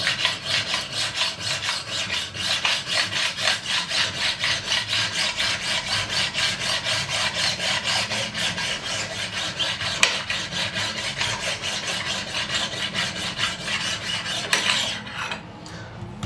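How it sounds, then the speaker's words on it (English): A fine-cut metal file is drawn back and forth over the frets of a Japanese-made Schecter guitar to level them, giving a steady, close rasping stroke rhythm for about fifteen seconds before it stops. "it's a much finer cut, this file"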